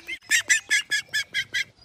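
Call ducks quack in a quick, evenly spaced run of about eight loud, close, nasal calls, like a cackling laugh.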